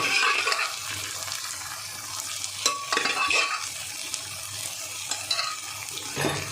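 Egg tadka stirred in a hot pan, a steady sizzle of frying under the scrape of a spoon, with a few sharper clinks against the metal.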